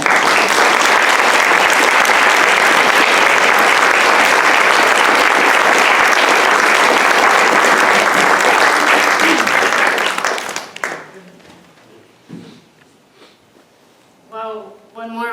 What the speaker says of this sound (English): one more round of applause for Sami Awad